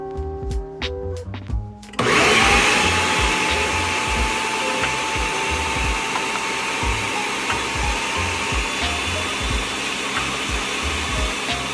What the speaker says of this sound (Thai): เดี๋ยวจะใส่เนื้อปลาลงไปปั่นด้วย